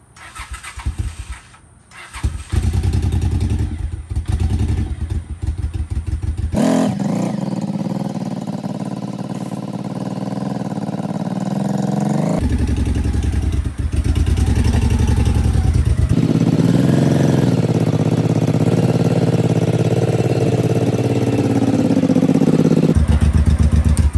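A budget-built bobber motorcycle engine runs loud and close while being ridden around a corner, sputtering at first, then roaring steadily with changing revs.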